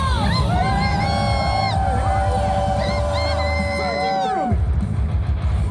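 A live show audience, many of them children, cheering and screaming loudly together, high sustained shrieks and whoops over a dense crowd roar that breaks off near the end.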